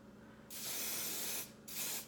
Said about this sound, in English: you can really lay on the hairspray there